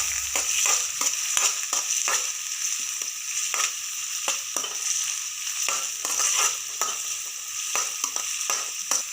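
Onions and green chillies sizzle loudly in a pan while a spoon stirs them in regular scraping strokes, the frying hiss steady underneath; close and prominent, with no voices.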